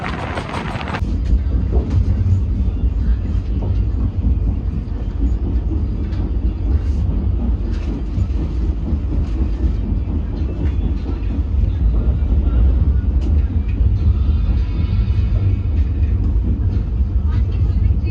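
A train passing at a crossing near Barkhera station, heard from aboard a moving express, with a loud, steady low rumble and rolling noise that continues throughout.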